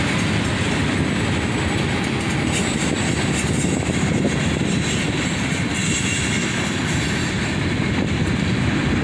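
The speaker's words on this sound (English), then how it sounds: "Triple SD43 rebuilds lead a southbound manifest train." Southbound manifest freight train led by three rebuilt SD43 locomotives, a steady loud rumble of wheels and cars rolling past with faint squeal and clatter, continuous and close throughout.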